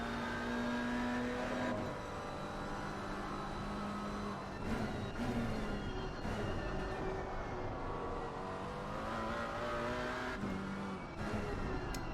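GT4 race car lapping Silverstone in a sim racing game, its engine droning loud and continuous with pitch climbing and dropping through upshifts and braking, no talk over it.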